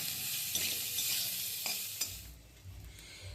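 Pasta fries in a pan with a bright, steady sizzle, broken by a few scraping stirs and soft clicks, then quieter low rumbling toward the end.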